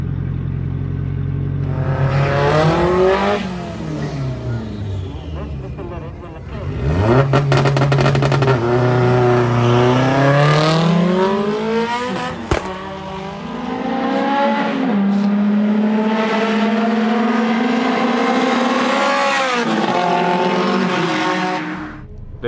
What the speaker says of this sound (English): Racing E30 turbocharged, making like 300 kilowatts.